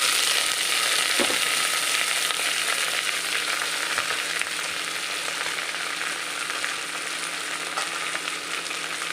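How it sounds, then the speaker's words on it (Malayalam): Drumstick leaves sauté in a hot pan, a dense, loud, continuous sizzle that holds steady for several seconds, with a faint scrape or two and no speech. "ഇനി മുരിങ്ങയില ചേർത്ത് കൊടുക്കാം."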